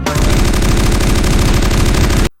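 Rapid, continuous automatic gunfire rattles out loud and close during a warehouse attack. A dense machine-gun burst lasts about two seconds and then cuts off abruptly.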